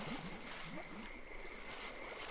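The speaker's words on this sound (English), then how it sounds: "Alright, that's too many splashes." Faint water splashes and gurgles sound in the survival horror game Darkwood, quiet and scattered over a low steady hum.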